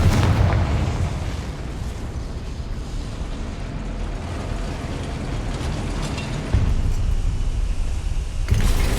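Confringo fire spell explosion in Hogwarts Legacy, heavy rumbling booms that roll on for several seconds with a fresh loud burst near the end.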